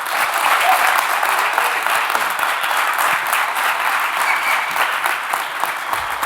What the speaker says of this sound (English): So let's give a big round of applause to Thomas.